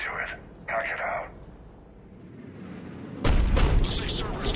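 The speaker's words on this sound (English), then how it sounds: "Looks like Cerberus got that cannon operational, Commander" A Cerberus cannon firing in the sci-fi game Mass Effect 3: radio-filtered voices speak first, then a heavy, loud boom bursts in and rolls on with a broad rumble.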